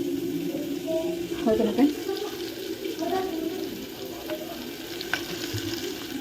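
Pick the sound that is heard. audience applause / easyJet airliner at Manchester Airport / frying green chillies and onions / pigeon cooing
frying green chillies and onions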